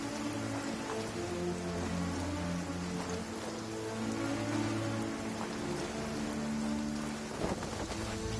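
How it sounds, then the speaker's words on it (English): A heavy rain downpour in a PS4 video game, a steady loud hiss of rain hitting surfaces that fills the scene, with low rumbling tones beneath and no talking. "Taking a stroll in the middle of a downpour certainly rouses the spirit."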